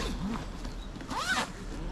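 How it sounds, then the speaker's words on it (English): A zip on a Honda VFR1200 motorcycle luggage compartment is pulled closed in one quick, close rasping stroke, with a softer tug just before it. "So get that zip back up"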